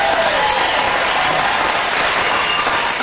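Studio audience applause on a live comedy radio show, a steady dense wash of clapping held at full level for about three seconds before cutting off abruptly.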